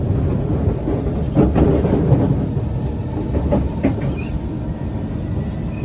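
A loud, steady rumble of a Singapore SMRT metro train running on rails between Bishan and Ang Mo Kio, with faint rhythmic clatter and no voices.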